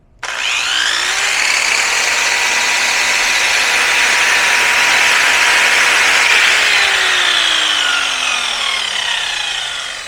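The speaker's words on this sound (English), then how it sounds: "Let's try skill saw" A handheld circular skill saw powered through a Leesky 1500W pure sine inverter spins up and runs loud and close, a steady high whine holding for about nine seconds before starting to wind down, with no talking.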